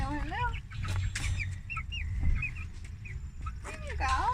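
Newly bought chickens and roosters cluck and chirp in short, repeated calls close by, under people talking throughout.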